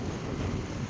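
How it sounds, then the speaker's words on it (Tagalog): Strong wind buffets the microphone in a dense, steady low roar for about a second, with no voices. "Grabe ang lakas ng hangin."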